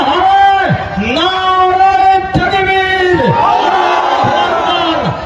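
A large rally crowd loudly chanting slogans in unison, voices rising and falling in repeated rhythmic phrases, close and continuous.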